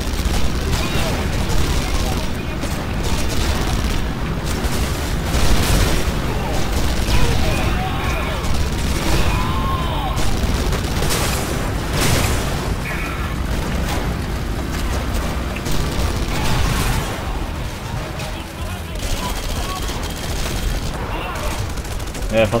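Explosions and gunfire rip through a busy battle in the Red Faction Guerrilla video game, with dense, continuous blasts and bursts of shooting heard loud and close while a voice talks over the chaos.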